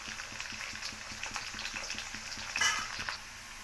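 Onions fry in a pan with tomatoes, green chillies and curry leaves, a close steady sizzle and bubbling with faint spatters and a brief louder burst of crackling near the end, no voices.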